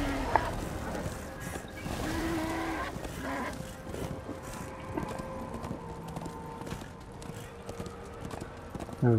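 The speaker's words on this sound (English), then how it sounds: "Come on, horse." Horse hooves clip-clop at a steady gallop in the video game Darksiders 2, a continuous rhythmic run of footfalls over game ambience with occasional sharper effects.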